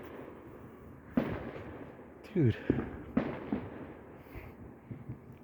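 Fourth of July fireworks burst in a scattered series of sharp pops and bangs, some with crackling tails, heard at moderate distance while someone speaks briefly.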